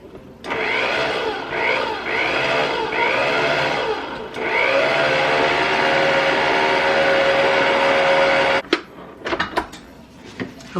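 Electric mixer whirring through apple pound cake batter with a steady motor hum, the pitch shifting as the beaters work, then stopping near the end, followed by a few clinks and knocks.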